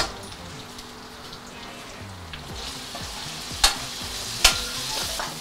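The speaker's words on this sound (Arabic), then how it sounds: "ننزل بالجمبري" Shrimp hit a hot pan and fry with a steady close sizzle, broken by stirring scrapes and two sharp metallic clinks of a utensil near the end, no talking.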